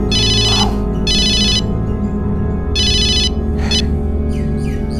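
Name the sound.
mobile phone ringtone ringing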